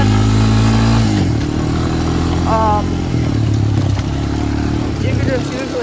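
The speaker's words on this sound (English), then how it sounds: "because it's a race quad" A race quad without four-wheel drive runs loud and close on a dirt trail, its engine roaring with a shift in pitch about a second in and small rising revs later, while a person talks over it.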